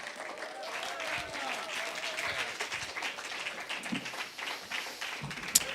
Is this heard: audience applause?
yes